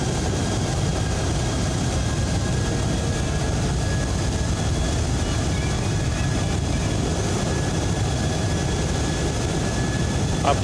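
Airliner touchdown in the X-Plane 12 flight simulator on an upsloping runway, a steady loud low engine roar with broadband rumble and faint high tones running throughout, no distinct impact thump standing out.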